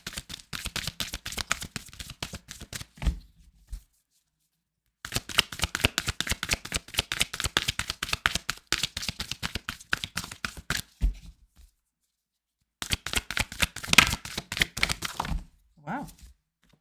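Tarot cards being shuffled for a clarifying card: three bursts of rapid, close riffling and flapping clicks separated by short silences.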